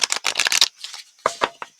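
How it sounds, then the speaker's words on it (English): Stiff new oracle cards being shuffled by hand, a quick burst of riffling followed by a few separate slaps and taps, close and fairly loud with no talking. "They won't be after I shuffle them a few times, but they do shuffle nicely."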